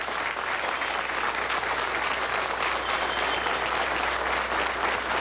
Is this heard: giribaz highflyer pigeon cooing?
no